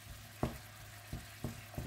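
Pork belly stir-fries with bamboo shoots and red curry paste in a pan, with a few soft scraping stirs over a low sizzling background and no speech.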